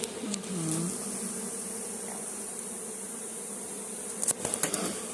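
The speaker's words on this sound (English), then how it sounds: "And there's a lot of bees." Honey bees buzz around the comb of a hive, a steady dense hum filling the air, with a few sharper close passes near the end.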